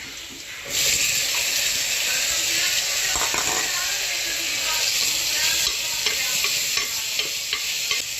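Raw mango pieces fry with crushed ginger, onion and green chili in hot oil, a loud, dense sizzle that starts abruptly and hisses on continuously with faint stirring scrapes and no talking.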